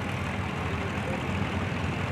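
Engine of a John Deere A tractor in a historic farm days parade, a steady dense low-pitched rumble heard close and continuous with no break.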